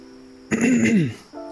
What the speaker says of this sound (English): this really unpleasant sound of me clearing my throat for like the next 20 minutes